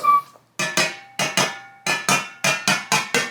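Hollow metallic knocks as an upturned cake pan is struck to release a raspberry cake, a short buzz followed by about a dozen sharp raps in quick pairs.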